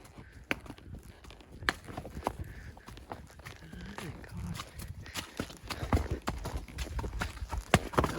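Horse hooves clop along a hilly trail at Mammoth Cave at an unhurried walking pace, with irregular thuds growing slightly louder toward the end.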